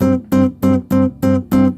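Six short, evenly spaced staccato notes on a Chapman stick, each plucked tone clipped off with a clear gap of silence before the next, close and loud.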